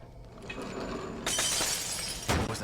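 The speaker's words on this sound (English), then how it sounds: "Sounds like glass breaking." Glass breaks in the horror video game The Evil Within: a sudden bright shattering crash bursts over a dense noisy backdrop, followed a second later by a second sharp crunching impact.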